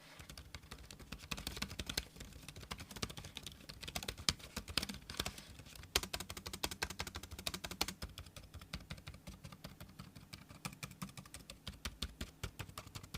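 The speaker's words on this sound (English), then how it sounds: "I did want to give you guys a typing demo to show you how quiet they are and what they actually sound like" Steady typing on a Logitech Pebble Keys 2 K380s scissor-switch keyboard: a quick, continuous patter of soft, muted key clicks with brief pauses, close and quiet, with no talking.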